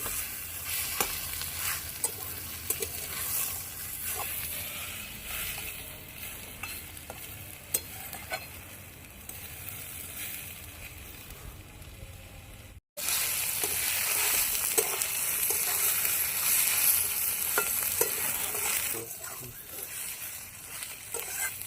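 Ghetkol stalks fry in a pan with a steady, close sizzle and repeated stirring scrapes; a brief cut near the middle, after which the sizzle grows louder and brighter. Faint voices may sit underneath.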